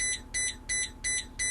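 A Blue Bird school bus sounds its headlights-left-on warning as a series of five evenly spaced, high-pitched electronic beeps, each about a fifth of a second long, with steady low engine rumble underneath.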